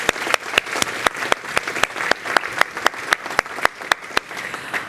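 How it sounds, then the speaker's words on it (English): Applause from a group at a Purple Day event at the Sydney Opera House, with sharp individual claps ringing out in a steady rhythm above the general clapping, close and lively. "We're going to clap you out."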